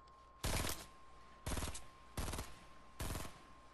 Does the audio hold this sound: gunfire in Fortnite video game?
yes